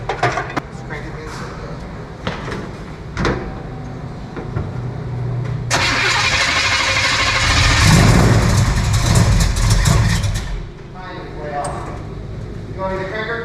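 A 1972 Chevy C10 Suburban engine cranks and then fires, with a rising roar in the middle before settling into an idle. Voices talk nearby, and earlier clicks and knocks of work on the truck can be heard.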